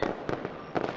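Fireworks bursting at a Fourth of July display, heard from a distance: several sharp booming cracks over about a second, with one stronger burst near the end and a crackling wash between them.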